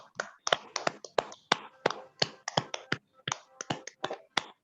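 Participants on a Zoom video call clap in a steady run of sharp, close, separate claps with short gaps between them, heard with no other sound.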